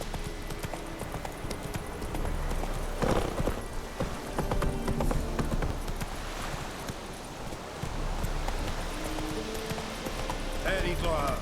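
Hoofbeats of Roach, a horse in The Witcher 3, a steady clip-clop of galloping hooves under wind and game ambience, with a voice speaking over it.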